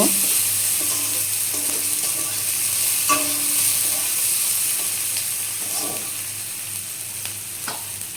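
Chopped onions sizzle steadily in a pan for soybean curry, a constant frying hiss with occasional light clicks of stirring, close and alone with no talk.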